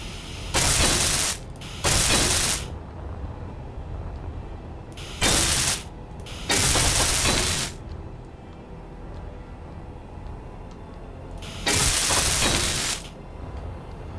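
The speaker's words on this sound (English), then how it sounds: "Just weld this part up" Welding tool running in Space Engineers, heard as five loud bursts of harsh broadband hiss, each lasting about half a second to a second and a half, spaced irregularly over a steady low mechanical hum.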